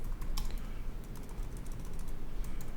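Steady, close clatter of computer keyboard keys being typed in quick irregular bursts, with no voices over it.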